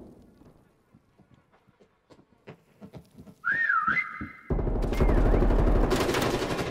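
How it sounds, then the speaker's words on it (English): Faint footsteps, then a short warbling whistle rising and falling close by in a stairwell, before loud, sustained gunfire bursts in and drowns everything out, in a Prop Hunt video game match. "Whistling in the stairwell is so loud."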